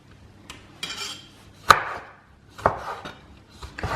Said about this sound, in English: Chop a few tomato.